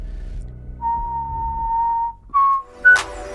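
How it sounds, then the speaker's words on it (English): A person whistles a few clear notes: one long sustained tone, then two short higher chirps, with a faint low hum underneath. "I whistle something strange"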